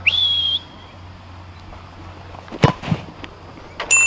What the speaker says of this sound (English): Whistle, please, Darug.